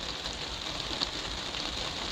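Rain falls steadily outside a greenhouse, a constant hissing patter with no breaks or voices over the short stretch.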